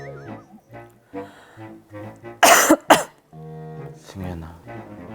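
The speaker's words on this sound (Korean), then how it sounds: "저 계속 기침 나왔었어요." A loud burst of two sharp chronic coughs breaks through the middle of ongoing nearby conversation.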